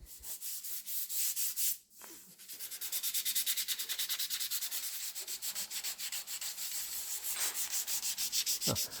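Rough spots on a wooden basement railing are sanded lightly by hand, giving steady, rhythmic rubbing strokes close by, with a brief pause early on and no talking.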